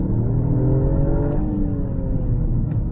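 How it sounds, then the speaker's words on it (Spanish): A 2021 Toyota Yaris GR pulls hard down a track straight on a slightly wet surface, its engine note rising steadily, loud and close, with no talk over it. "el coche acelera muy bien"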